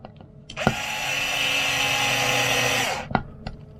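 A power driver spins up to start a billet bead lock ring screw on a 1/5 scale MTXL RC wheel, giving a steady whirring buzz of about two and a half seconds framed by sharp clicks before and after.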